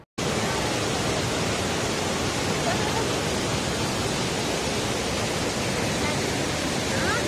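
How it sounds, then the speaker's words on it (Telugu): Elephant Falls in Shillong, Meghalaya roars as a steady, dense rush of falling water, loud and unbroken from start to finish, with no voices. "ఇది సెకండ్ వాటర్ ఫాల్."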